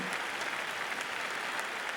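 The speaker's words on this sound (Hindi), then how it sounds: "विद्या जी, विद्या बालन जी के लिए जोरदार विद्या तालियां।" An award show audience applauds Vidya Balan with dense, steady clapping that fills the hall at an even loudness from start to finish.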